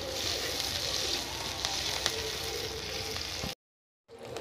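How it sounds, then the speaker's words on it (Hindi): Sliced onions sizzle in hot mustard oil in a pan, a dense, steady frying hiss with small crackles, close and loud, cutting off abruptly near the end before resuming briefly. "सरसों का तेल गरम हो चुका है। मैं इसमें डाल देती हूँ प्याज।"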